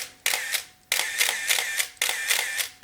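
Up close, a Canon EOS 1N film SLR shutter fires in three rapid motor-driven bursts, each a bright mechanical whirring clatter with sharp clicks at its start and end, separated by brief gaps.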